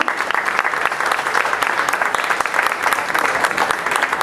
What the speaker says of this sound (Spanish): Un fuerte aplauso, por favor, por esta presentación.